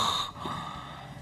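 A voice imitates snoring with a short, loud snorting intake of breath at the start, followed by a softer, raspy breathy tail.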